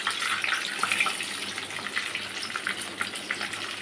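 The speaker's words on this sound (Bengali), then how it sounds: "এবার বেগুনটা ভেজে নেব" Brinjal slices frying in oil in a pan, a steady bright crackling sizzle that stays close and even throughout, with no talking.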